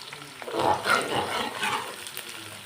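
Onions sizzle and crackle softly in a pan on the stove while being stirred, making a steady, quiet frying sound with small scraping movements.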